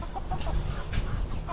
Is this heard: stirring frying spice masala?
no